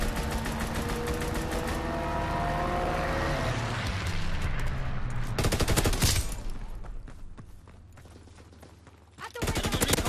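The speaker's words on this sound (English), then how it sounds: "Fighter pilot inbound, strafing the target." A fighter plane strafes the ground in Call of Duty WWII, with loud, sustained machine-gun bursts and a roaring engine pass. Several sharp volleys stand out near the end, and a voice speaks beneath the fire.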